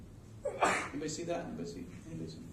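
A single sharp sneeze bursts out in a lecture hall, close and loud, while a lecturer keeps talking around it.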